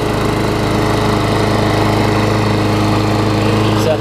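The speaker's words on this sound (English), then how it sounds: "So happy to get this one running. It's going to be a good mower for somebody." A Craftsman self-propelled lawn mower with a Tecumseh engine, somewhat rusty, runs steadily up close, its loud continuous drone holding an even pitch with no talk over it.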